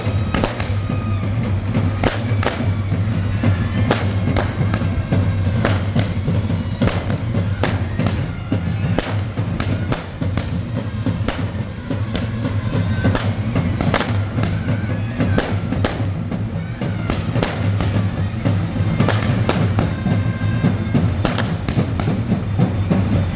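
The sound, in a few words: firecrackers bursting outside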